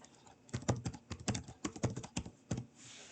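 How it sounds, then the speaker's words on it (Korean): Fingers typing on a computer keyboard, a quick irregular run of close, crisp key clicks with short pauses between bursts, heard alone without talk. "글씨를 입력 후에는 엔터 키를 누르시면 이렇게 밑으로 내려가고요."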